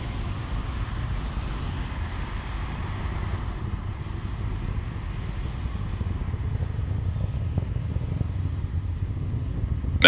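SpaceX Falcon 9 rocket engines during ascent, a continuous low rumbling roar heard faint and distant, steady over several seconds with no voices.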